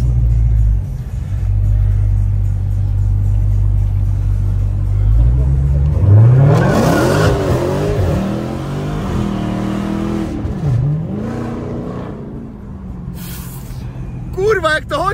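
A car with its window open accelerates through the gears toward about 40 km/h, the engine note climbing and dropping in loud, close revving sweeps after a steady idle-like rumble, with voices around it.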